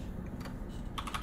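Quiet typing on a computer keyboard, a few soft key clicks with a small cluster of taps near the end, over faint background hum.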